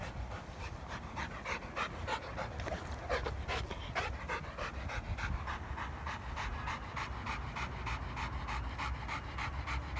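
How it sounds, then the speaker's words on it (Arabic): A Rottweiler pants rapidly and rhythmically after biting, close to the microphone, with quick regular breaths continuing throughout over a steady low background. "لازم نخلي الكلب يرتاح ياخد نفسه"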